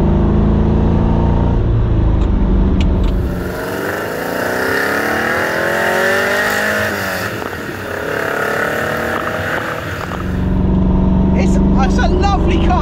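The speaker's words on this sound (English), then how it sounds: "I tell you what, it's a snarling, growling. It's not your typical Ferrari sound, this one." Ferrari V8, a 348-era car with no power steering, snarling and growling as it drives, a rising and falling engine note under steady speech, loud and close throughout.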